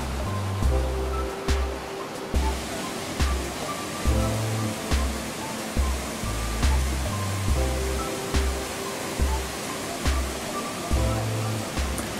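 Yudaki waterfall in Nikko, Japan, flowing between forested banks toward a lake, gives a steady, broad rushing roar, with a low rhythmic musical backing pulsing beneath it and no talking.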